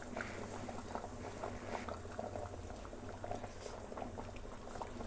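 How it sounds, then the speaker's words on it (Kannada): A pot of sambar made with leafy vegetable stems simmers at a steady rolling boil, its dense bubbling and gurgling continuous and close with no voices. "ಇವಾಗ ಇನ್ನೇನು ಒಂದು 4 ನಿಮಿಷ 3 ನಿಮಿಷ ಕುದ್ರೆ ಸಾಕು"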